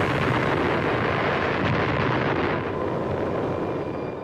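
Tsar Bomba, the Russian nuclear test that was the most powerful bomb ever detonated, gives a loud, continuous broadband roar that rumbles on steadily and then eases slightly toward the end, with no voices.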